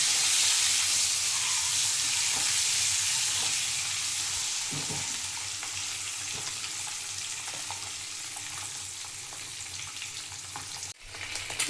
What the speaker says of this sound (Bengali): ডিমগুলো দিয়ে দেবো। হালকা করে ভেজে নেব।